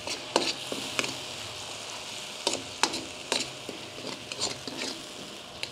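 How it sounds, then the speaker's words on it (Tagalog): Chopped onions sauté in oil and margarine for chicken caldereta, a steady close sizzle broken by sharp scraping stirs every second or so, with no voices. "Then, gisahin lang natin to hanggang maging translucent"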